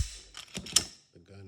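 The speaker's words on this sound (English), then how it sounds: "we're gonna take the magazine out" A magazine slides out of a Walther PPQ Navy 9mm pistol with a short series of close mechanical clicks and a scraping rasp, followed by a faint voice.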